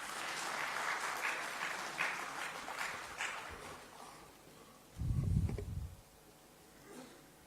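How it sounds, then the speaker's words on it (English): Seated attendees at a power engineering workshop applaud a college director's address, the clapping moderately loud at first and tapering to faint, followed by a brief low rumble near the end. "A big round of applause"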